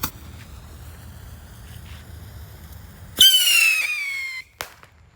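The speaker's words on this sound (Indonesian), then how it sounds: "Dan ini roket double warna merah, kita nyalakan." A red double-colour firework rocket fires outdoors, a sharp bright whistling shriek rising suddenly after a stretch of low rumbling background, sustained for over a second, then a short sharp crack near the end.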